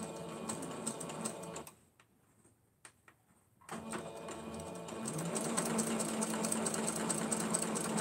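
A domestic sewing machine backstitches on a pair of house slippers with a steady mechanical whir. It stops for about two seconds and then starts again, running a little louder and steadier to the end.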